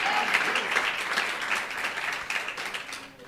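Sustained applause from a church congregation, a dense wash of clapping at steady volume that begins to fade toward the end.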